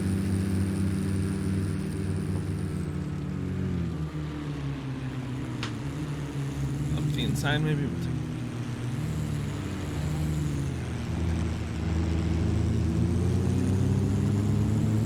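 A 1937 Delahaye 135S touring car engine in a racing sim drones steadily and loudly throughout, its harmonics holding a low, constant pitch with a slight rise near the end, while a few brief clicks sound and someone says a couple of words.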